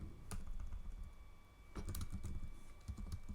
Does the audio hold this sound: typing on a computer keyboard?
yes